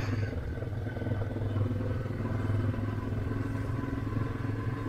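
A motorcycle riding along the seaside at Gümüldür, Özdere, its engine droning steadily and close throughout, with a continuous low rumble and wind-like roar and no gaps.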